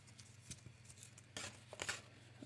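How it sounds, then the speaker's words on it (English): Scissors snip through cardstock to cut away small squares for a Christmas mug gift box, a few quiet scattered cuts with a busier burst of snipping near the end, faint over a low background hum. "I'm going to cut away these two squares on the outside"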